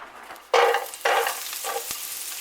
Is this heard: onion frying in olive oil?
yes